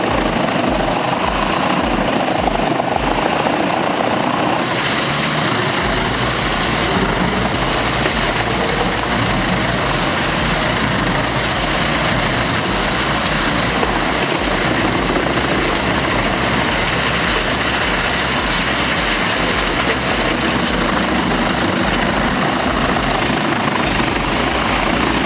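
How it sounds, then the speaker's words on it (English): A large wood chipper's pre-shredder grinds and breaks down big logs, a loud, dense, continuous roar of engine and shredding without a pause from start to finish. "This smart pre-shredder breaks down large pieces before chipping."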